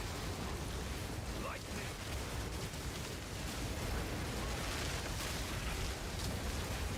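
Explosions in a modded video game, a dense continuous roar of blasts and rumbling bursts filling the whole stretch, steady and fairly faint with no clear individual booms standing out.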